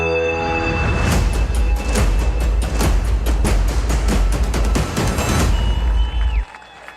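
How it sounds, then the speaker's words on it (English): A crowd at a high school football game at Lee Williams High School applauds after the national anthem, dense sustained clapping heard from the stands, fairly loud, then cutting off near the end. "the applause as the national anthem just ended"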